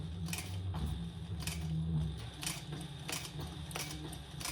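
A home sewing machine running slowly with a lengthened stitch over a crossbody bag's lining, a soft, steady mechanical whir punctuated by faint rhythmic clicks, alone with no talk.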